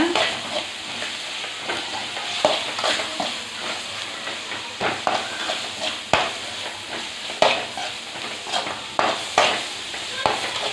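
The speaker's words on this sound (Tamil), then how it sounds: "அது எல்லா மசாலாவையும் போட்டுக்கலாம். நல்லா மிக்ஸ் பண்ணி விடுங்க." Masala for a chicken gravy fries in a pan while being stirred, a close sizzling hiss broken by repeated scraping strokes and clinks of the spoon against the pan in an uneven rhythm.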